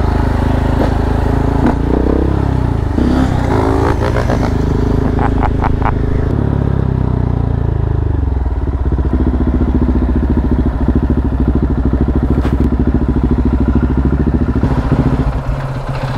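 A motorcycle engine runs close by, first with clattering mechanical noise, then settling into a steady, loud rumbling idle for the rest of the clip, with no talk over it.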